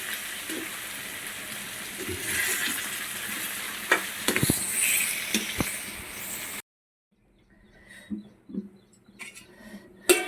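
Eggplant fry being stirred in a pan with coriander powder, a steady sizzle with scraping strokes for several seconds, then a sudden cut to near silence before faint clatter returns.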